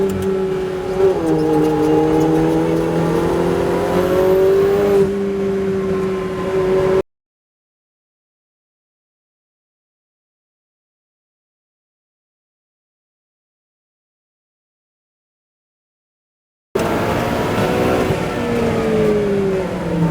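A Ferrari 488 Challenge race car on a Las Vegas track, its engine loud and close as it revs and climbs through a gear for about seven seconds, then drops to silence before roaring back near the end.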